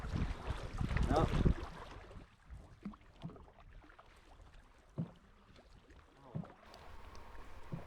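Canoe paddling on a lake in the Boundary Waters, with soft rhythmic splashes and strokes every second or so after a loud burst of wind noise and water at the start.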